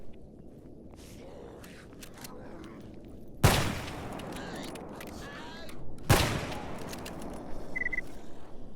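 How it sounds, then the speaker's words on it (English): Gunfire in the video game STALKER as bandits fight in the Zone: two sharp, loud shots stand out a few seconds apart over a steady murky background with faint scattered pops. "We've got some shooting going on."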